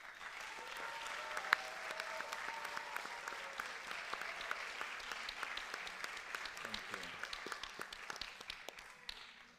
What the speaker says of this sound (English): my granddaughter, Alaya, was clapping harder than anybody else